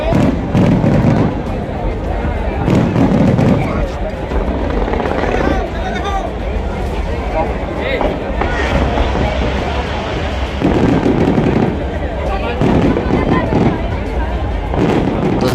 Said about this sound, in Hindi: अयोध्या वाली दिवाली के पटाखे के भी हमने काफी मजे लिए